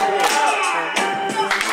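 Children clapping along in time during a kids' emcee lesson, with steady hand claps mixed under a voice talking and chanting over them.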